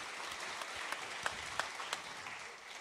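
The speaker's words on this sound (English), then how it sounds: "Give her a round of applause." Audience applause at a Nashville-area music show, a steady, moderately loud spread of clapping with a few louder individual claps popping out near the listener.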